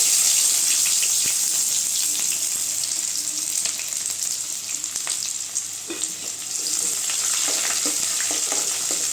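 Steady loud sizzling of onions frying in a hot pan with popped mustard seeds for curry leaf rice, crackling and hissing throughout with occasional stirring sounds, no voices.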